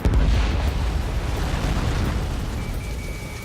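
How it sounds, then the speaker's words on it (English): A missile launch in the combat flight game Ace Combat 7 opens with a loud, close blast that settles into a sustained roaring rush, dense and continuous throughout. "Missile launched."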